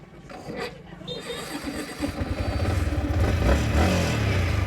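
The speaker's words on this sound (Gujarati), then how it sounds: "તો હવે આપણે નીકળીએ બાઇક લઈને" A motorbike pulls away at the start of a late-afternoon ride to Rajpara Khodiyar temple near Bhavnagar, its engine note rising from a low rumble into a steady, loud drone with clattering under brief background talk.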